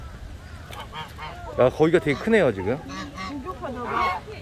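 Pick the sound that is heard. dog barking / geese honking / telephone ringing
geese honking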